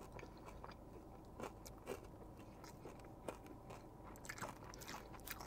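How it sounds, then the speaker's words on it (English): Someone chews a Wendy's loaded nacho cheeseburger topped with tortilla chips and added onion, giving soft, close, crunchy bites and steady mastication at low volume, with no talking. "Tortilla chips are nice. It gives that nice crunch to it."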